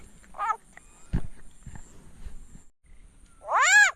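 A frog gives a couple of short, harsh croaks, one near the start and a louder rising call at the end, with rustling and handling noise between during frog fishing outdoors.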